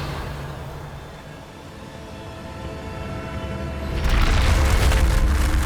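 A Revelio spell pulse cast in Hogwarts Legacy: a low rumbling swell that builds, then a loud bright whooshing burst sweeps out from about the four-second mark and holds to the end, with no voices.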